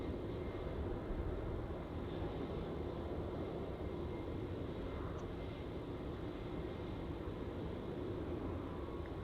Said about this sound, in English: Qatar's at 777, touching down there from its short hop from Adelaide